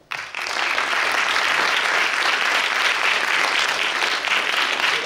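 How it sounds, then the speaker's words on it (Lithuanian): Loud, sustained audience applause fills a hall at a school and youth sung-poetry festival competition after a first-place award, steady dense clapping throughout with no voices over it. "Žmonėmi perlaukiančius audringus aplodismentus."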